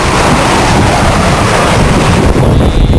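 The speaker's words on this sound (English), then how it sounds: "And the wind has been building through the day." Loud, steady wind roaring and buffeting the microphone aboard a catamaran sailing downwind at 7 to 10 knots, a constant broadband rush with water noise mixed in and no talking.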